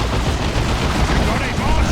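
Battle gunfire from Eldar troops in the strategy game Dawn of War 2, a thick, continuous wash of shots and blasts, with voices shouting over the din.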